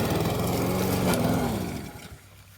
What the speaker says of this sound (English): you can't necessarily ask a 20-year-old lawnmower to cut hay